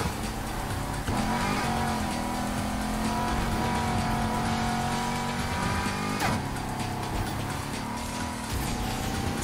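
A pink Lamborghini Diablo drives by in the racing game Need for Speed Heat, its engine droning steadily at close range, with tire squeal and a brief sharp skid partway through, no voices.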